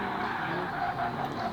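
Tires skidding on a V8-swapped BMW E30 sliding sideways while drifting, a steady loud broadband squeal with engine roar underneath, sustained throughout without pauses.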